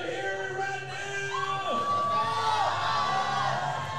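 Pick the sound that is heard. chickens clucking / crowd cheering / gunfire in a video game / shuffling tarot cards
crowd cheering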